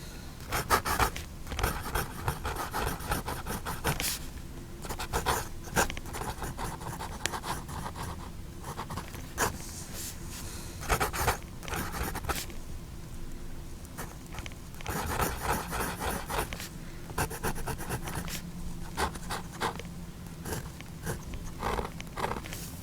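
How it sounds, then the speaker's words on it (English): A vintage Peerless fountain pen with a stainless steel nib scratches across paper in steady, close strokes, a dry rasping that runs on and off for over twenty seconds with brief pauses between words. "So let's see how this vintage stainless steel nib writes."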